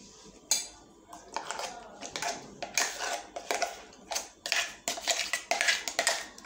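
A spoon scrapes ground chana dal paste from a grinder jar into a bowl, making repeated close metallic clinks and scrapes in an uneven rhythm.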